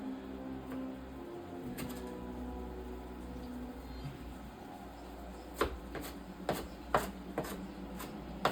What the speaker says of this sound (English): Cutting these up a little finer. Peppers are smaller